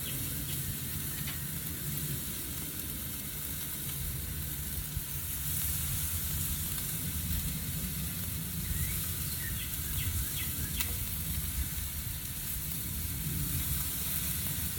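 Bacon-wrapped BBQ chicken lies on a hot grill, giving off a steady, even sizzle that hisses continuously at moderate level, with a faint chirp of birds or insects in the background.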